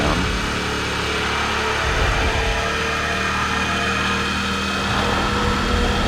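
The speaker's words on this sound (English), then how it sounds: "World United engine sound." Engine of the World United car from Need for Speed ProStreet, a continuous buzzing drone with a steady high-revving tone, loud and unaccompanied by any voices.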